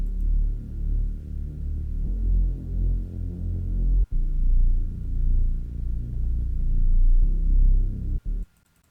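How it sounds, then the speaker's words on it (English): Deep, throbbing wrist bass from an FL Studio beat, an Asake-style amapiano line, rolls on in sustained low swells, loud and alone, before cutting off briefly near the end. "So the wrist bass sounds like this."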